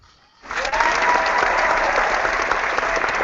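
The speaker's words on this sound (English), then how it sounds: "I'll give you a hand clap." Hand clapping on a gaming podcast show, breaking in suddenly after near silence and then holding as a dense, steady burst of applause-like claps.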